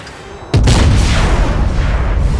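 A Sheridan tank fires a missile in World of Tanks Blitz: one sudden loud boom that rolls into a long, sustained rumble and roar lasting about two seconds.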